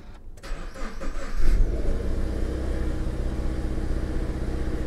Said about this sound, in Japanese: ちょっとエンジンをかけてみましょう。